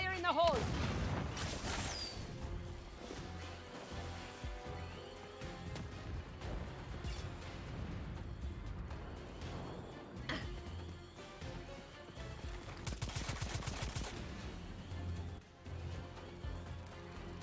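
Gunfire and a grenade blast in the Second Extinction shooter game: loud bursts of rapid shots and heavy booms recur across the stretch, with voices talking underneath.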